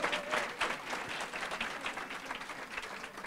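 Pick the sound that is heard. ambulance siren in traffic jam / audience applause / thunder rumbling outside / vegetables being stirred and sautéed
audience applause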